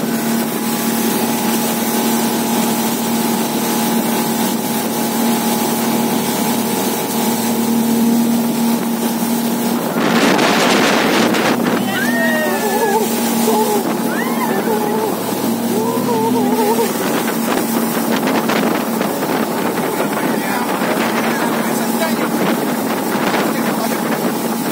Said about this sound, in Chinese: 下龙湾乘坐快艇体验007